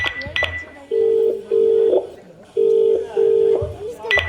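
A phone handset plays sustained dialing or ringback tones in two pairs of long beeps, loud and close, with a short click and a faint voice at the edges.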